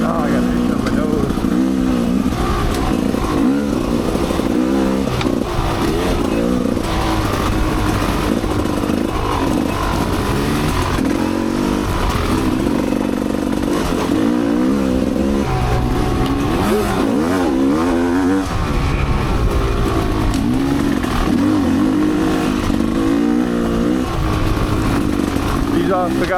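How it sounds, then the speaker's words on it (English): A Gas Gas EC300 two-stroke trail motorcycle being ridden on a Michigan trail loop, its engine buzzing and revving continuously up close throughout, with a rider talking over it. "The Gas EC300. It's a really good trail bike."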